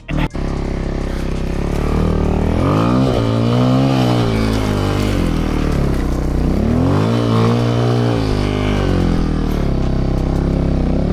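A motorcycle rides along a slippery snowy winter trail, its engine loud and close as it revs up and eases off in repeated waves, the pitch rising and falling with the throttle.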